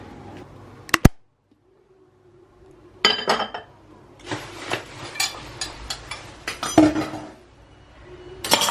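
Dishes and cutlery clink and clatter in sharp, irregular bursts as food, including dry köfte and yogurt, is served onto a plate. The clatter sits close, with quiet gaps between bursts.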